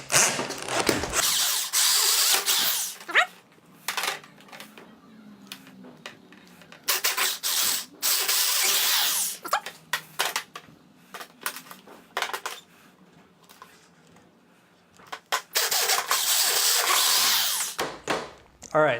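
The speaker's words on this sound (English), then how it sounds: "we're going to drill a 5/16 inch hole" A power drill bores 5/16 inch holes into wooden camera dolly sections, cutting in several long, loud whining bursts separated by quiet pauses, close to the listener with handling noises between runs.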